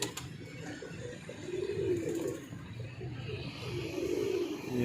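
A pigeon coos near a tall tower roughly 200–300 feet high, two soft low rolling coos over steady background hiss.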